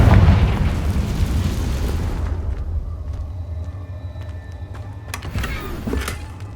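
A Confringo spell explosion in the video game Hogwarts Legacy. A loud fiery boom opens, then rumbles away over a couple of seconds, followed by quieter crackling bursts and a smaller pop near the end.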